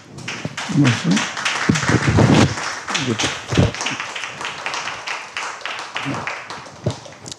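A church congregation at a seminar gives a round of applause as the guest pastor comes forward. Scattered clapping rises and falls in uneven bursts while voices speak over it at moderate volume.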